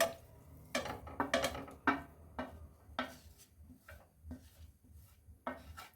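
Grated paneer in a kadai over a very low gas flame, stirred with a utensil: irregular scraping and knocking strikes with quiet gaps between them, close and moderately loud, no talk.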